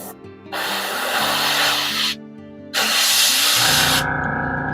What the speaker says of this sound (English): One of the important things to know when you're priming these is make sure you get